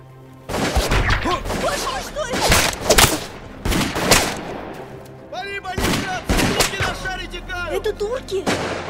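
Gunfire erupts in a film battle scene near a Turkish camp: a rapid string of loud, close shots and blasts in irregular bursts, with some voices mixed in between volleys.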